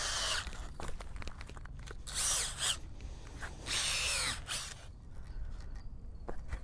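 Soil auger boring holes in moist, sandy soil, heard as close, intermittent whirring and grinding bursts that start and stop, with quiet gaps between them and no talking.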